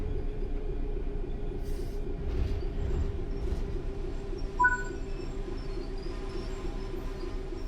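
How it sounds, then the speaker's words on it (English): Train in Train Sim World's Rivet Engineering Express rumbles with a steady low engine drone and wheel noise, a faint squeal and clank mid-way, no talk. "Wait for train to pick up speed."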